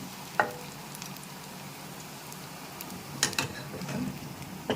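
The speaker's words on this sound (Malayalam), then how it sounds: "ഇത് ഒന്ന് ഫ്രൈ ചെയ്തെടുക്കുന്നു" Food frying in a pan, a soft continuous sizzle with a few sharp clinks of a spoon or ladle stirring and scooping, close and fairly quiet.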